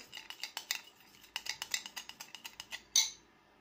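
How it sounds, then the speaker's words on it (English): A vegan egg substitute whisked with salt in a bowl gives a quick run of light, rhythmic clinks of a utensil against the bowl, close and fairly quiet, ending in one sharper knock. "Mix it together very well."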